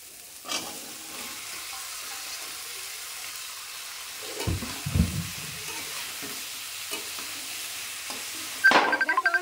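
Potatoes frying in a hot pan, a soft steady sizzle under a few thumps and clinks of a utensil, ending in louder stirring and scraping close by.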